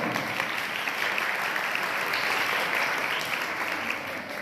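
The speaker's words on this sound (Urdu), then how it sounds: "اس بات کے لیے زوردار تالیاں۔" Loud, sustained applause from a church congregation fills the whole stretch, dense clapping with a faint murmur of voices beneath it.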